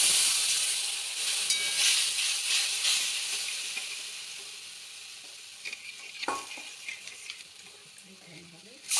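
Tamarind pulp goes into hot mustard oil tempered with black mustard seeds for a chutney, giving a steady, bright sizzle that slowly softens, with brief stirring knocks partway through.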